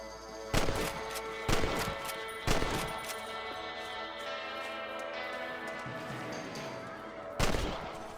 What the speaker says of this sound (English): Better at shooting rabbits than outlaws, I see